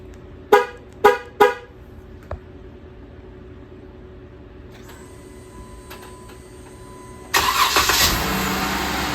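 A 2018 Jeep Wrangler fitted with an aftermarket remote start: three short horn chirps, a brief click, a rising electronic whine, then the engine cranks and catches into a steady close idle.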